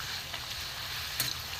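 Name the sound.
frying Gobindobhog rice pitha on low gas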